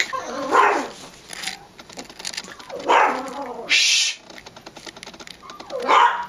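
A pet dog barks in three loud bursts spaced a few seconds apart indoors, with keyboard tapping and a brief hush from a person between the barks.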